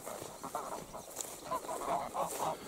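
A flock of geese being driven along toward a pond honks and cackles in short bursts, moderately close with a soft outdoor background and no speech.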